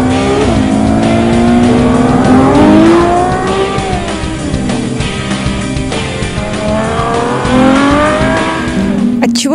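A Ferrari sports car accelerates hard, its engine note climbing through repeated gear changes, loud and close, with rising and falling pitch sweeps and a faint tire squeal, no talking.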